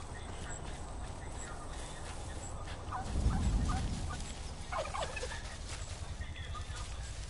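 Wild turkey gobbling in the Far Cry 5 video game, one loud burst midway through a steady ambient bed, with a fainter call following a moment later.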